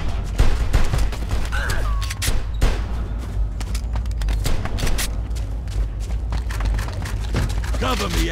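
Gunfire in the game Mafia II, rapid bursts of shots cracking one after another with loud booms, under shouted voices from characters.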